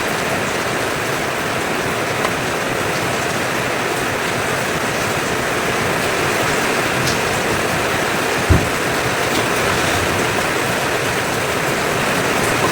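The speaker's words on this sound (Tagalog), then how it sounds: "Ulan." Steady rain hisses continuously, a dense wash of sound with one brief knock partway through.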